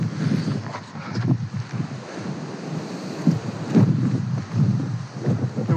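Strong gale-force wind while wild camping in winter, roaring and buffeting the microphone in a loud, continuous rush that swells in gusts, with no voices.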